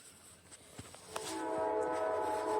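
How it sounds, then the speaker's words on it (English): A small train passes on a cold, snowy day in southwest Michigan. Faint clicks lead into a rising, distant rumble with a sustained horn-like tone that grows louder toward the end. "there's a train going by"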